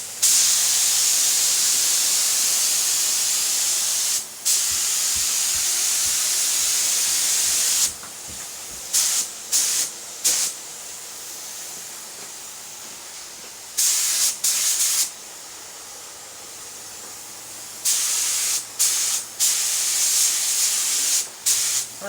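A spray gun lays a light tack coat of paint on small parts from a 1970s Trans Am, producing loud, steady hissing bursts of varying length with short pauses between passes.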